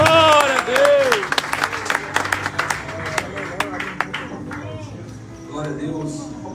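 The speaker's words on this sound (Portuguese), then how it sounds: "Receba o nome de Deus com as palmas que louvam o nosso Deus maravilhoso" A church congregation claps in praise during a service, sharp hand claps rising over a murmur of voices, with someone speaking at the start and the clapping thinning toward the end.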